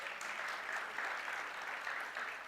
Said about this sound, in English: Can we have a huge round of applause, everybody?